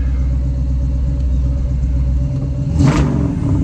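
A 1957 Corvette engine running steadily with a low, continuous rumble, swelling into a brief rev near the end.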